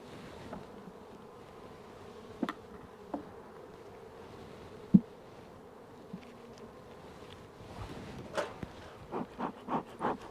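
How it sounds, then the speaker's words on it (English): Steady low hum of honey bees buzzing in a hive during a super inspection, with scattered knocks and handling noises, a few sharper clicks near the end. "Lots of bees in there, lots of bees."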